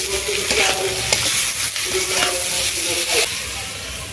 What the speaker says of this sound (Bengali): ঢাকনা দিয়ে খানিকক্ষণ পটল আর পেঁয়াজ একসঙ্গে ভাজবো